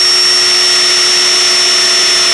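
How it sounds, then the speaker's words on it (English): A power drill pre-drilling plywood runs continuously with a loud, steady high-pitched whine and no pauses. "I think I'll have to pre-drill"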